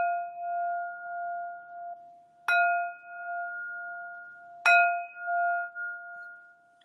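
A meditation bell is struck twice, each strike a bright metallic ring that settles into a long, steady sustained tone, the second strike coming a couple of seconds after the first and both decaying slowly in a quiet room.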